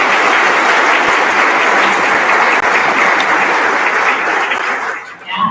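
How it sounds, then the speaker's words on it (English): An audience at a School of Nursing spring ceremony applauds the nursing faculty, a dense, loud, steady wash of clapping that fills the room and then tapers off near the end. "take a moment and just like applaud the faculty members for everything they've done so far"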